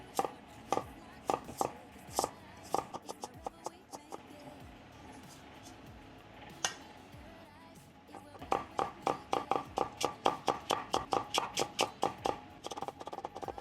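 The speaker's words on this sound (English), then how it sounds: "A carrot, you'll only need about half. Slice this up into thin strips." A knife slices half a carrot into thin strips on a cutting board, making quick, crisp, evenly spaced chops, close by and fairly quiet, with a brief pause before a faster run of cuts.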